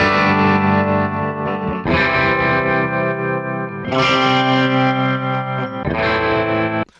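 An electric guitar pitch-shifted up five semitones in Reaper rings out in four long sustained chords, thick and effected with a chorus-like, slightly distorted tone, loud and close with no speech.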